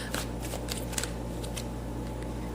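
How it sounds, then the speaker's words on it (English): Tarot cards are shuffled and drawn in a quiet room, giving soft, brief papery riffles and flicks in a few light bursts over a low steady background hum, with no talking. "Let's get 2 more cards out."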